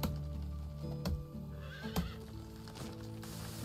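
Horse in the medieval life-sim game Medieval Dynasty gives a clear whinny while its hooves clip-clop in a steady rhythm, all heard over a constant low game ambience.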